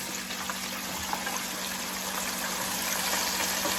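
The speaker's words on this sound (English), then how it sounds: "You see all that bubbling because the fries are wet." Chicken strips and fries sizzle and bubble in hot deep-fryer oil, a steady dense hiss of spattering grease with no voices, holding an even loudness from start to finish.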